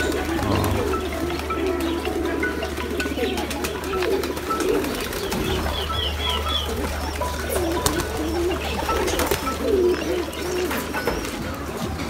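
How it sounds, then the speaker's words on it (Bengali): Pigeons at a pigeon farm coo in low, repeated rolling calls from several birds nearby, with faint chirps and a steady low background hum. "এই যে আপনারা দেখতেছেন কবুতর, এই রাবিশটা কবুতরের খাবার হিসাবে দেওয়া হচ্ছে।"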